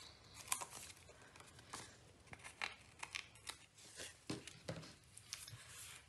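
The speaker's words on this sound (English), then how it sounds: "So I'll just find my scissors," Scissors snipping and trimming scrapbook paper, a series of quiet, irregular close cuts and rustles with small paper crinkles between them, no talking.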